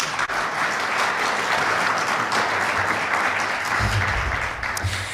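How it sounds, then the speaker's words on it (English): An audience gives sustained applause for election candidates after an all-candidates debate on accessibility, a dense, even wash of clapping throughout with a brief low rumble near the end. "If we can give them a round of applause."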